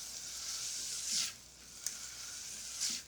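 Grated ginger and two cloves of garlic fry in a pan with a soft, steady sizzle, broken by a few scraping stirs and small clicks of a utensil, close and fairly quiet.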